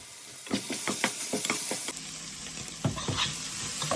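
Onions, green chillies and ginger-garlic paste sauté in a pan for beef curry, with a string of rhythmic stirring scrapes over a steady sizzle that swells into a louder, hissing fry.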